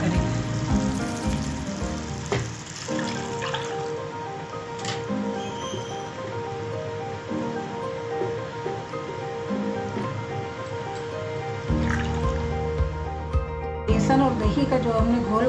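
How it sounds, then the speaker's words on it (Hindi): Yogurt mixture being poured into a pot of cooked black-eyed peas for lobiya kadhi, a continuous hissing, sizzling wash that stays fairly even with a few brighter splashes and no voices. "अब इसमें एक घोल जो हमने तैयार किया था"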